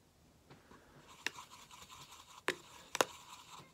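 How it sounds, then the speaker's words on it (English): A wet brush stirs blue paint inside an old plastic gum container, producing faint scraping and a few sharp clicks or taps against the plastic, close up and quiet. "So I just took a tiny bit of a wet brush and stirred it"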